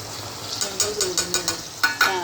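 Tomato gravy being stirred into a hot pan for homemade paneer curry, with about eight distinct scraping stirs over a steady sizzle, a louder double clatter near the end.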